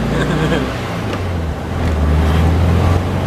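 A 1972 Volkswagen Beetle convertible pulls away in first gear, its low engine drone swelling midway with wind rush over the open top.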